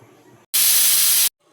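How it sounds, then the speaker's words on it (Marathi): A loud, steady hiss of a pressure cooker whistle blasts for under a second, with quieter kitchen noise before and after. "तीन सिट्ट्या होऊ देणार आहोत"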